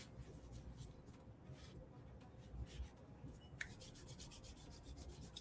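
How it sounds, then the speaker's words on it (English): Palms rubbing together during a sunrise Kundalini yoga session, a soft steady friction swish, faint and close, continuing for several seconds with a slightly brighter burst near the end. "Rub the palms together."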